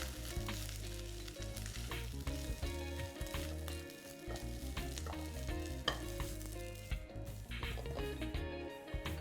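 Jeera rice tossed with salt in a hot pan, with steady sizzling and repeated scraping, stirring clatters close by, fairly quiet and without speech.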